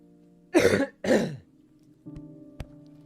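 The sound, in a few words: coughing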